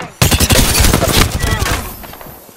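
Rapid automatic gunfire in the video game Apex Legends, a loud, close burst of dense repeated shots that tails off into a quieter ringing decay.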